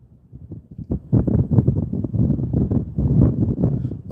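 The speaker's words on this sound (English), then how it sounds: "Sorry about the wind, y'all." Wind blasting into the microphone in low, rumbling gusts, starting quiet and then swelling into a steady, close roar.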